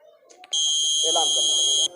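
A homemade intruder alarm triggered by a footstep gives a loud, steady high-pitched electronic tone lasting over a second, with a voice speaking underneath it.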